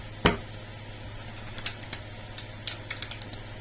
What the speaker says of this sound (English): let's shuffle the numerology oracle cards 2 more times